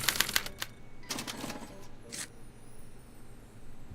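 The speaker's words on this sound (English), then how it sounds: "they're relayed to this special typewriter, which prints out a punch card that represents the subject's mind map" A special typewriter punching out a card chatters in quick bursts of sharp mechanical clacks, with brief pauses between runs against a quiet room background.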